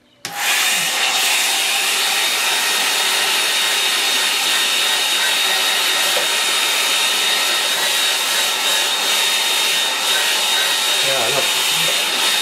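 A hair dryer switches on and blows steadily and loudly, close up, drying a loose watercolour painting, a continuous airy roar lasting throughout.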